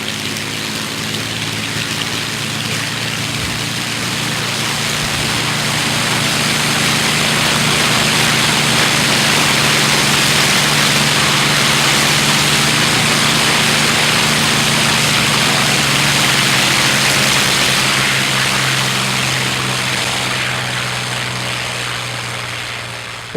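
Aeroplane engine run up to full power on the ground, a loud, continuous propeller roar that swells over the first seconds, holds steady and broad, then eases slightly near the end.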